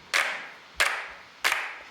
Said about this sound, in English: you can definitely hear the reverb in those claps.